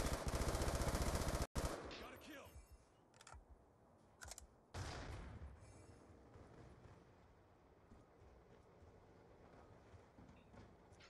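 A minigun in a team deathmatch video game fires a dense, loud, continuous burst for about a second and a half, then cuts off, followed by scattered quieter game sounds and a few later bursts.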